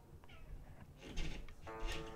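A house cat meowing, two or three short close meows, the last one longer and more tonal, over quiet background.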